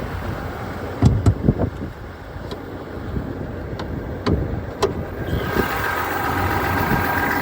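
A Chevrolet Silverado 1500 Duramax diesel idles with the hood open, a steady close rumble broken by several sharp clicks and taps that settles into an even hum.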